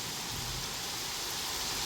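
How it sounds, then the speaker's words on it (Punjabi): Heavy monsoon rain falls steadily in a village, a dense, even hiss of downpour on surfaces with no pauses across the short stretch. "ਸੋ ਲਗਾਤਾਰ ਬਾਰਿਸ਼ ਤੇਜ਼ ਜਾਰੀ ਹੈ"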